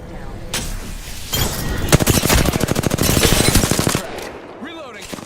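Sustained automatic gunfire in Apex Legends, rapid loud bursts of shots in a steady rattling rhythm lasting a couple of seconds, with a voice speaking briefly around it.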